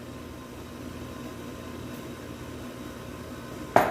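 A mixer hums steadily on low speed, blending chocolate cupcake batter with a buttermilk and cocoa mixture. A faint, even motor drone continues throughout, with a short, sharper burst of noise right at the end.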